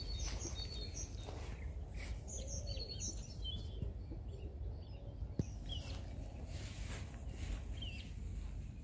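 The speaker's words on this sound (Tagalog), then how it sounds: "Dinig na dinig mo talaga yung mga huni ng ibon." Small birds chirp and sing in scattered, faint calls around a hilltop restaurant in Ludbreg, Croatia, on a drizzly day. The calls are heard from a short distance against a quiet outdoor background, with no talking.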